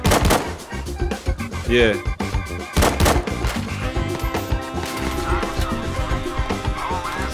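Automatic gunfire in the VR shooter Zero Caliber: loud, rapid bursts of shots crackling close by, then a steadier stretch of mechanical clatter, with a voice briefly speaking.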